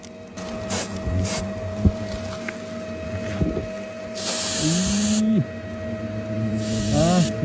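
Freezing spray blasts onto a golden-ringed giant hornet nest outdoors in two loud, sustained hissing bursts. A steady mechanical whine and occasional voices sit underneath.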